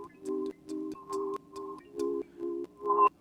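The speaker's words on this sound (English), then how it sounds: "but is that pump sound, like it's coming in and out" A tonal sound swells and cuts out in a steady rhythmic pulse, about seven regular pumps over a few seconds, each rising then dropping away.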